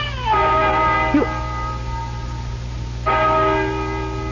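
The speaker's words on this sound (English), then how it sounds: "Listen to that bell." A church-like bell tolls in an old barn setting in a 1970s radio mystery drama, two loud resonant strikes with long ringing decays between them.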